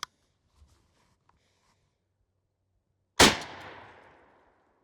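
A single Remington Nitro load fired from a Spandau Arms S2 20 gauge shotgun during a turkey pattern test, one sharp loud blast with a long decaying echo after a few faint handling clicks.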